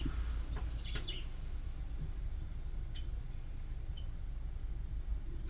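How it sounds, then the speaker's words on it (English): Birds chirp outdoors in a few brief, high tweets and one thin sliding call, faint over a steady low rumble of background noise. "Birds be doing the most."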